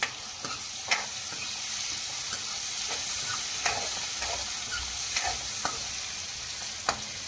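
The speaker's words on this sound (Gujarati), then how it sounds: "હવે આપણે એને થોડીક વાર સાતળશું." Steady sizzling of greens sautéing in a hot pan with occasional sharp clinks of a spatula stirring, close and continuous.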